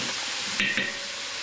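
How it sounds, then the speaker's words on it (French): Garlic and parsley gently cooking in salted lard, a steady close sizzle and hiss with a brief light clink of a utensil partway through; no voices. "Il continue à cuire dans le lard."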